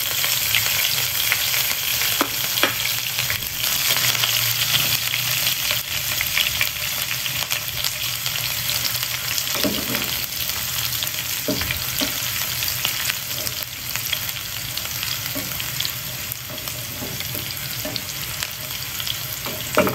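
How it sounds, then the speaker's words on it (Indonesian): Anchovies frying with onion and chili in a pan give a steady, close sizzle for the whole stretch, broken by occasional stirring clinks and scrapes, with no voices. "Kita goreng sampai garing, kekuningan."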